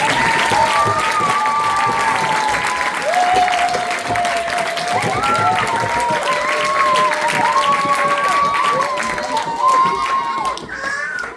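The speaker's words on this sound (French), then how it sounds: "Nous les remercions et nous les applaudissons chaleureusement" A concert audience claps warmly for the parents who accompanied a school trip, a steady wash of applause lasting throughout, with people talking over it.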